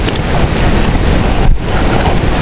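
Heavy rain pours steadily and loudly during an outdoor fishing session in the high-water season, a dense, unbroken roar that fills the whole scene.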